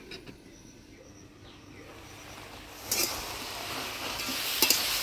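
Green chilies are being stirred into taro leaves cooking in a pan with salt and a little water, giving a soft steady sizzle with scraping stirs that grow louder toward the end, a few sharp clinks standing out.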